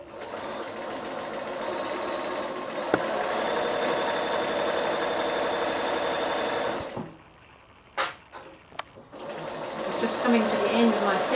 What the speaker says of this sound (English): So again, back to the sewing machine.